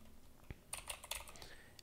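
Soft, quiet keystrokes tap on a computer keyboard in a short burst of several clicks, close and faint, with no talking.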